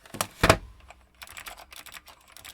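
Typing on a mechanical keyboard fitted with Blue Alps switches: a loud burst of clicky strokes opens, then a quieter, steady run of rapid keypresses clatters close by.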